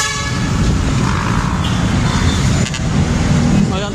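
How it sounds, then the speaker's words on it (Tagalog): Dense road traffic with engines droning and short car horn toots scattered throughout, loud and continuous, with someone talking over it. "Ayan, traffic. Walang katapusan traffic sa mundo."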